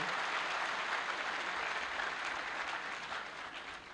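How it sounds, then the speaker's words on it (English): Sustained audience applause fills a convocation ceremony hall, a dense, steady wash of many hands clapping at even loudness throughout, tapering slightly at the end. "May I request a resounding round of applause for our alumni."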